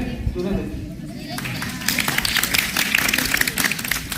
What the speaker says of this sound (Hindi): तालियां बज रही